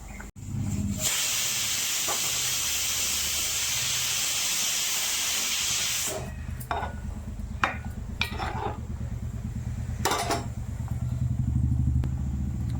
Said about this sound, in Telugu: కొంచెం ఇలా మరుగుతున్నప్పుడు